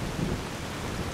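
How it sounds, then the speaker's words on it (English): Steady rain pours with a low rumble of thunder in Fallout: New Vegas, a dense, constant wash of noise heard alone without speech. "Now it's raining?"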